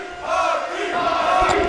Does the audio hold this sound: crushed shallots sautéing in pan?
no